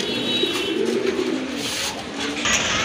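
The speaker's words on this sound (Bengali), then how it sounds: "এখন কিন্তু দেখতে পাচ্ছেন এক জোড়া নান কবুতর আছে" A pair of nun breed pigeons coo softly and repeatedly at close range, low throaty calls over a faint background hum.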